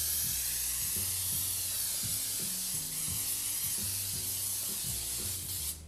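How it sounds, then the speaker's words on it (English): A can of cooking spray hisses steadily and loudly into a cake pan in one long continuous burst, while a faint rhythmic tonal pattern runs underneath. "So I'll just spray this completely."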